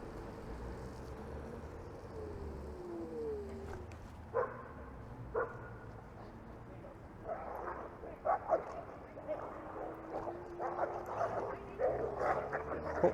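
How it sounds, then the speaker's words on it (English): Dogs bark, yip and snarl in a scuffle in Oriole Park, Toronto, at a moderate distance, heard from a moving Segway Ninebot Max e-scooter with wind and traffic noise and a voice talking over it. "There's a dog fight going on."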